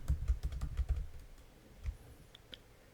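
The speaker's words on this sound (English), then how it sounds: "type a dollar sign, type your equation," Typing on a computer keyboard while entering a math equation, a quick run of close key clicks for about a second, then a few scattered taps in quiet room tone.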